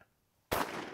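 A single sharp gunshot crack during an outdoor quail hunt, sudden and loud after near silence, followed by a brief decaying echo.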